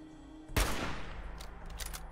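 Gunshot in Fallout 4, a single sharp crack with a decaying tail, followed by faint scattered clicks and background game ambience.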